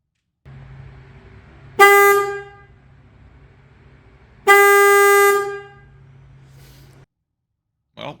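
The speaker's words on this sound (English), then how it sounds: "now that the new horn is installed, let's go ahead and see how it sounds." Denali SoundBomb Mini motorcycle horn blasting twice from about ten feet away, two loud, sustained, bright honks of roughly a second each over a low idling hum.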